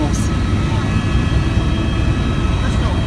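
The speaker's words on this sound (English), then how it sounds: "This is the quietest helicopter of its class in the world." A helicopter flying over Niagara Falls heard from inside the cabin, a loud, steady low rumble with a constant whine above it and no change throughout.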